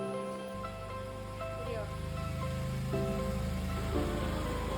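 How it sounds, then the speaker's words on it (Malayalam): Heavy rain pours steadily outside a home, a dense continuous wash of drops on surfaces with a low hum underneath and no breaks across the clip. "പുറത്ത് നല്ല മഴയാണ്."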